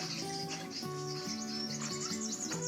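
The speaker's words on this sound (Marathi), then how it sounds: "या पायरीच्या झाडावर आहेत ना बरीच पाखरं असतात मंडळी दिवसभरसुद्धा आणि रात्रीचंसुद्धा" Birds chirp in a tree near a temple in the Konkan, with high, quick tweets scattered over a steady backdrop of stepped, musical tones.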